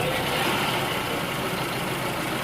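Toyota Camry engine idling rough with misfiring cylinders and oil burning, shifted between drive and reverse; a steady, loud, close mechanical drone fills the whole stretch with no talk.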